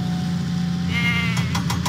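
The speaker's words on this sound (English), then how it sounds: "Diesel must deliver the goats to Farmer McCall's farm." Goats bleating in a Thomas and Friends children's train game, a wavering bleat followed by a few short repeated calls, close and clear over a steady background hum.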